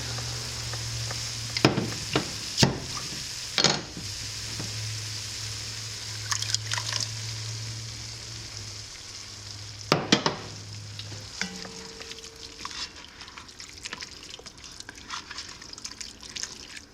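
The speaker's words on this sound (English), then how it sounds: "now I have this jar of pasta sauce that I canned from the summer. I'm gonna open up and add it in" Home-canned pasta sauce is emptied from a glass jar into lasagna filling: a few sharp clinks, then thick glugging, dripping and stirring over a steady low hum, with no talking.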